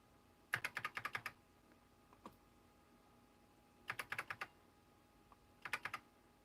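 A computer keyboard under test gets three quick bursts of close, crisp keystrokes separated by quiet pauses, with a few isolated clicks between them in an otherwise silent room.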